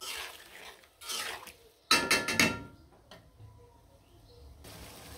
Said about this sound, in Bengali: আর আলুগুলো দিয়ে ভালো করে নাড়াচাড়া দিয়ে কিন্তু কষিয়ে নিব সুন্দরভাবে।